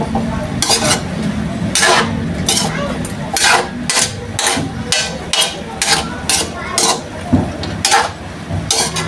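A spoon scrapes and clanks rhythmically around a pot of simmering chicken adobo, repeated loud metallic strokes close up over a faint sizzle, with no talking.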